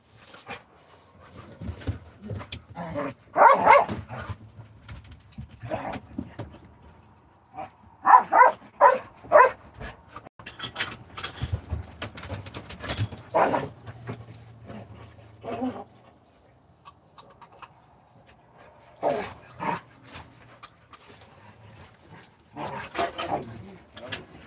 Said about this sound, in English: Plushy and puppy at war.